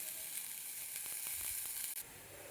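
Village-grown cluster beans (gavar) roast in a pan as they are turned, a soft, steady sizzle with a few light stirring scrapes, quiet and close, no talking.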